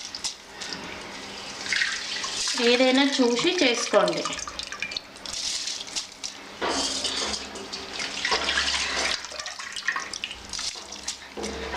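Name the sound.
water being poured into rice for bagara rice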